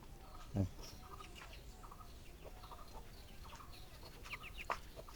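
Chickens cluck faintly around a rural Bangladeshi homestead yard, with scattered short calls and one louder squawk near the start over steady background noise.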